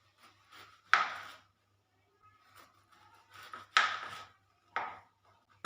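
Young raw jackfruit is cut with a knife, a handful of separate crunchy slicing strokes with quiet pauses between, close and alone.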